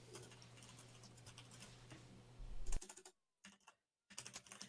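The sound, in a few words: computer keyboard typing, clacking keys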